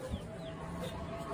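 A rooster clucks beside a duck cage in a backyard pen, with soft, short clucks blending into a steady background murmur.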